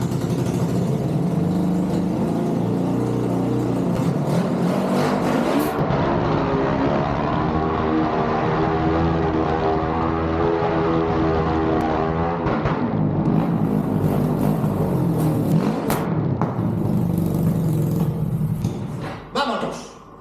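Go-kart powered by a Suzuki GS 500 motorcycle engine, an unfinished exhaust, running loud and close: a steady throbbing idle, then revs that rise and fall before it cuts out at the end.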